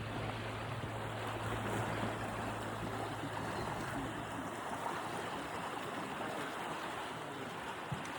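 Roaring water of the Nile river, a steady, loud broadband rush that fills the whole clip without pause and with no voices over it.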